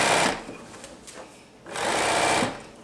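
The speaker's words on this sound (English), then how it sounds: "I'm going to serge it so it'll already be sewn over twice" A serger overlocks a pants seam in two loud, fast whirring bursts separated by a short pause, close up with no talk over it.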